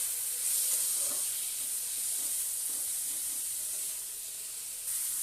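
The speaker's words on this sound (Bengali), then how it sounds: "এবারে দিয়ে দেবো টমেটো। এবার এটাকে ভেজে নেবো ভালো করে।" Tomatoes frying in a pan with green chillies for paneer butter masala, a steady close hissing sizzle that dips briefly near the end, no voices.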